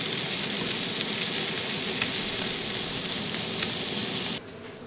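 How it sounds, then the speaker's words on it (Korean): Costco meat searing in melted butter in a pan, a dense close hiss and crackle held steady, then dropping suddenly quieter near the end, no speech. "소분하고 남은 고기를 구워 볼게요."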